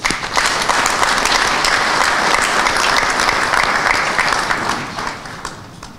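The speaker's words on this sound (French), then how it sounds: "Reconnaissons-le en applaudissant pour leur compte." Sustained, dense applause from a large audience fills an official government address, loud and steady for several seconds before thinning out near the end.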